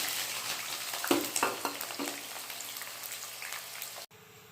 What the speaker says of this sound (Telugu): ఇప్పుడు ఆయిల్లో ఆనియన్ వేసుకుందాం ఫ్రెండ్స్.